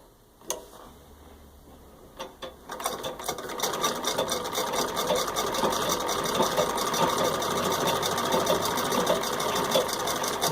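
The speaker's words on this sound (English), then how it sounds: "Doing the full speed stitch also shows that it doesn't skip any stitches or break thread or anything." Serviced antique 1889 Singer VS2 treadle sewing machine with painted flowers starts with a few slow ticks, then speeds up into a fast, even, clattering stitch rhythm at full speed, close and alone.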